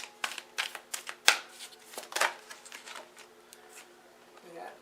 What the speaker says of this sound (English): So I'm gonna start with some oracle cards.